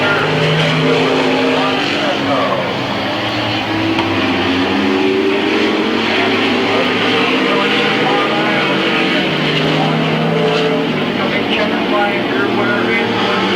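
Several race cars howl around the track at Midvale Speedway in 1995 on the final lap, a dense continuous engine roar with passing pitch sweeps and a faint announcer underneath.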